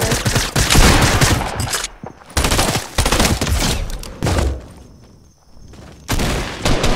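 Bluebird SMG fire in Fortnite: loud, sustained rapid bursts of gunfire separated by short gaps, with no talk over them.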